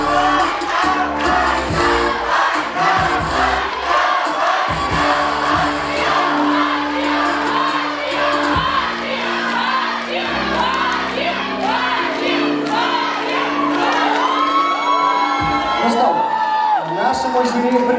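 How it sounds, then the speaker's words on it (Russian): An audience at a university Mister-style pageant contest cheers, whoops and shouts loudly and continuously as the judges leave, with mixed voices rising over the crowd noise. "Давайте аплодисментами проводим наших судей сегодняшнего конкурса."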